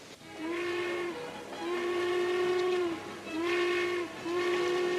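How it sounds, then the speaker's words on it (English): A steam train whistle in a 1953 Western film sounds in long sustained blasts, repeated about four times over rumbling railway noise as the train pulls out of the station. "The train just pulled out."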